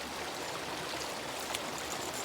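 A river flowing just downstream of a lake: a continuous, even rush and gurgle of moving water, fairly soft and close, with no voices.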